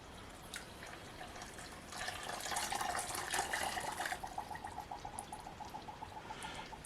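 Water is poured into a small pot or briki already holding sugar: a steady trickling pour that grows fuller midway and then tapers into lighter splashing, heard close and quiet with no talking.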